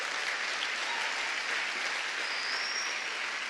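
A church congregation applauds steadily, a dense, even wash of many hands clapping at moderate distance, sustained from start to finish without speech.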